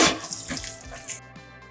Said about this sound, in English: give them a quick rinse with cold water